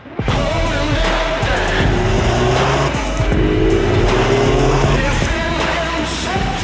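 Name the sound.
new MINI hatch car driving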